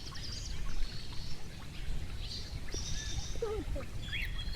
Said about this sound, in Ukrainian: Чайки.